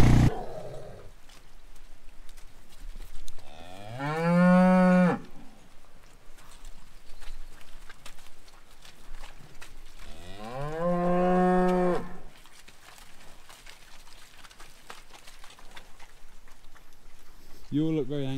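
Two long, deep moos from cattle several seconds apart, with another starting at the end, over quiet outdoor background noise.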